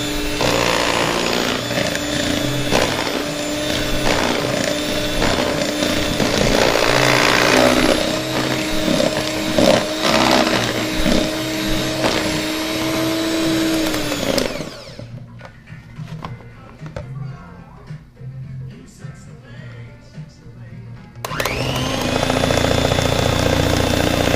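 A dense cornbread dressing batter with added oil is beaten hard by a motorized mixer that whines loudly and steadily, pauses for several seconds, then starts up again up close.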